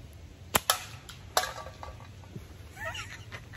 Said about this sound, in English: I'm shooting at a very tiny little Dr. Pepper can, so it's a small target.